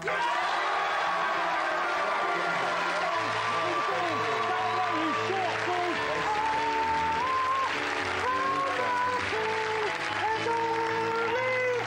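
A studio audience on a TV talk show claps through a vote on who is the tallest guest, with steady, dense applause running the whole time beneath music and voices.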